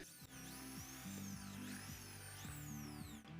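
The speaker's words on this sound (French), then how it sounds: "il faut percer un autre trou de 10 mm de diamètre sur le côté de la boîte" A power drill bores a 10 mm hole into the side of a plastic box, its motor whining loud and steady throughout with brief pitch dips as the bit bites, up close and without talk.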